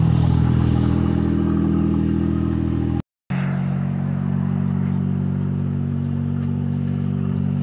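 A Mazda Autozam AZ-1 engine idling after a cold start, a steady, loud, close drone with a mechanical clatter, briefly cut out mid-way then resuming unchanged.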